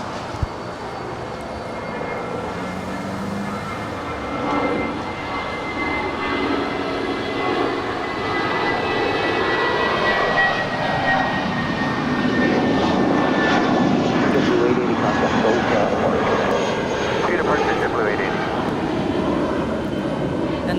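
JetBlue Airbus A320, 16 years old, departing LAX for Las Vegas: a sustained jet engine roar that swells and holds loud as the plane climbs away, with a low rumble throughout.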